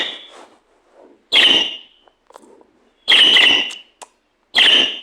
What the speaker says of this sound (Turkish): Bak cik der birazdan.